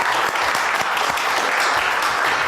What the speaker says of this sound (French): j'ai l'immense honneur de recevoir la divine France Gall, que je vous demande d'applaudir très fort